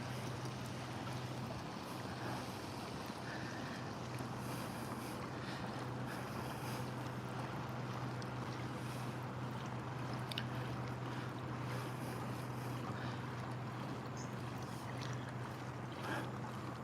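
Small kayak gliding past waterfront homes among coconut palms in Southwest Florida, with a steady low hum and gentle water wash plus light wind noise carrying evenly throughout, no talking.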